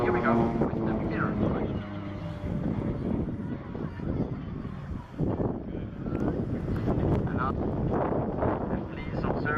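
A Pilatus PC-7 propeller aircraft flying at the Sanicole airshow in 2013, a loud sustained engine drone mixed with wind buffeting and a commentator speaking over it throughout.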